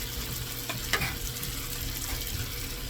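Bacon bits, beef or turkey bacon, frying in a covered pan, a steady crackling sizzle with a couple of sharper pops, close and continuous without speech.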